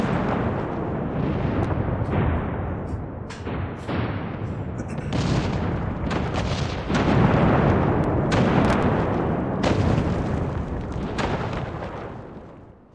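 Explosions from the bombing zone in the battle royale game Rules of Survival boom and rumble almost constantly, with dense, loud blasts overlapping one another and someone speaking over the barrage.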